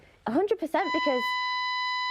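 A fire alarm sounds in a BBC studio, a steady high electronic tone that starts as a presenter is talking and keeps ringing alone after the voice stops.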